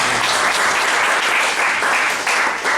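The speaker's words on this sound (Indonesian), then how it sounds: "Tepuk tangan." A church congregation breaks into dense, loud, continuous applause during a Christmas-season evening prayer service, filling the space evenly with no speech over it.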